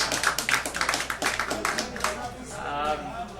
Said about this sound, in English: Come on, clap it up for me.